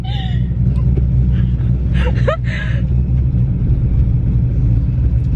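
Cammed Chevrolet Camaro engine with a manual gearbox, heard as a loud, steady low rumble filling the whole stretch, close by, with a brief voice breaking in partway through.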